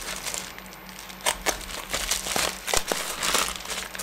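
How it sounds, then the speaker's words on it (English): A blade slices open a cardboard parcel box from an electronics delivery, giving close, uneven bursts of scraping, crinkling and tearing over a low hum. "I think we can just safely cut it right here."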